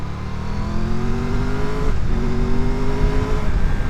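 Triumph Tiger 1200 Rally Explorer motorcycle engine pulling hard under acceleration, pitch climbing steadily, then a quick-shifter upshift with a brief blip near the middle before it climbs again; loud, close and steady, with no talking.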